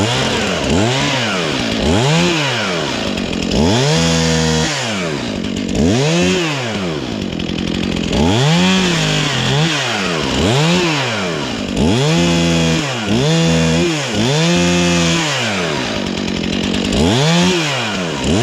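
A chainsaw trimming a dead tree in winter revs loudly and repeatedly in rising and falling surges, the engine whining up under load then dropping back, close and continuous with no voices.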